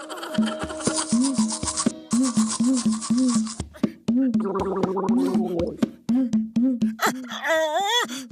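A cartoon character brushes teeth with rhythmic, repeated scrubbing strokes that are voiced and gargly and close up, ending in a rising, wobbly vocal sound.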